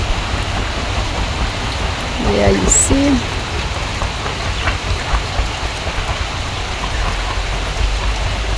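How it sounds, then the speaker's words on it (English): Rain falling steadily in a village in rural Kenya, a dense, even hiss close by throughout, with someone speaking briefly over it. "as you can see, it's raining."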